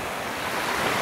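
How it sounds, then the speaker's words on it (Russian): Waves breaking on the shore of Lake Issyk-Kul, a steady broadband rush of surf with some wind noise, loud and close, no voices. "И так приятно, знаете, шум волн, в общем-то."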